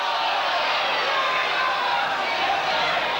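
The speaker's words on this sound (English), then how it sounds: "Crowd trying to say there was a knock on, but no." Stadium crowd at a 1983 rugby league semi-final at Lang Park, a dense, steady roar of many voices protesting a knock-on, loud and continuous throughout with no single voice standing out.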